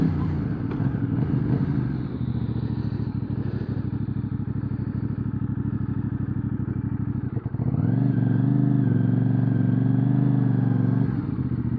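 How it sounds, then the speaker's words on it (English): A CFMoto CLC 450 motorcycle rumbles steadily up close, its exhaust note dipping and then rising again in a throaty rev, with occasional small pops and burbles and no talking. "You'll get a few little burbles and pops that sound really good"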